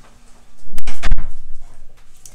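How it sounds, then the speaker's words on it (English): A puppy indoors lets out a brief, loud whimpering cry very close by, a couple of quick whiny yelps that trail off into quiet. "And my puppy's back in here."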